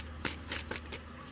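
Tarot cards are shuffled nearby, giving several quick papery riffles and soft slaps in a short burst, with a faint room hum behind them.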